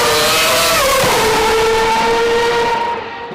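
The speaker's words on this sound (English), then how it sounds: "Let's deal with the first point, the engine sound." Formula 1 V6 turbo race car engine screaming at high revs, a loud sustained tone that pitches down briefly and holds steady before the end, heard alone with no talk.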